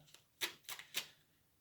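Tarot cards being shuffled in three quick crisp riffling bursts, close and clear against a quiet background with no talk.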